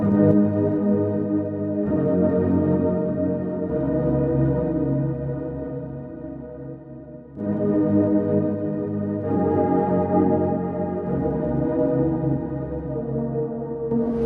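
Sustained, shimmering synth tones through a granular delay plugin preset, with a smeared, granular echo tail, shifting in sections every couple of seconds, played alone with no voices.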